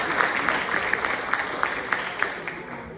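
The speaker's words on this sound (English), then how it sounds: "Now clap for yourselves." Students at Frankel Jewish Academy clap for themselves in a school room, a steady patter of many hands at moderate loudness, with bright sharp claps running evenly for the whole stretch.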